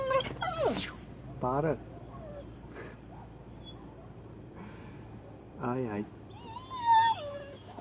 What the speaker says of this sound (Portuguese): A gente tem um cachorro aqui que ele começa a chorar do nada.